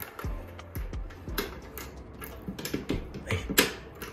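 A key rattles and turns in a house door lock, giving a few sharp metallic clicks and creaks before the door opens, all fairly close and quiet with no talking.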